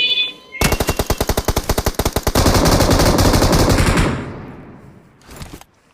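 Automatic gunfire in the mobile battle game BGMI: a loud, rapid burst of evenly spaced shots swells into a dense, continuous roar, fades out, then one shorter burst follows near the end.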